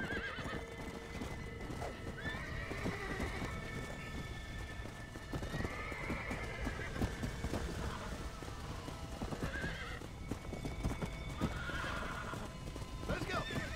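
In a cowboy video game, a horse gallops with steady clip-clop hoofbeats and lets out several loud neighs and whinnies, while a player talks over the action.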